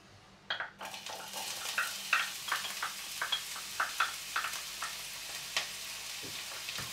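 Onions sizzling and frying in a pan while meatballs with pumpkin are prepared, with a steady hiss broken by frequent light stirring scrapes and utensil taps close by, no talking.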